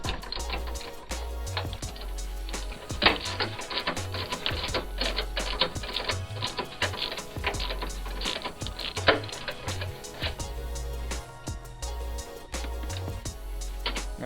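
Power driver with a T30 Torx bit backing a bolt out of a Jeep Grand Cherokee bumper support, a sustained mechanical whirring and rattling with rapid ticking, close and continuous, no voices.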